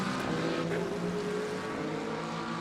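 Race car engine in the Le Mans Ultimate sim during an endurance event at Daytona, a steady high-revving drone with a quick blip as it downshifts, loud and continuous with no talk.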